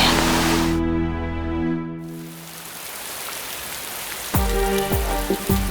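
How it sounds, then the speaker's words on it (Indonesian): Steady rain falls during an outdoor drama scene, a continuous hiss that runs the whole time, with a few sharper knocks near the end. "hujan gak akan menghentikan aku untuk menemui kamu"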